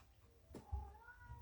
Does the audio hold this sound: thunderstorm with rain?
no